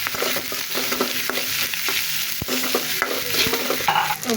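Peas being stirred in a frying pan while cooking fried rice, a steady sizzle with repeated scraping and clinking strokes of the spoon against the pan, close and moderately loud, no talking.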